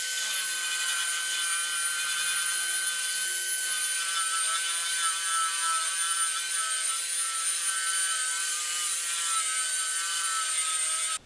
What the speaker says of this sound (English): the wire wheel will catch in that chip and rip that out and any other soft or sap woods along with it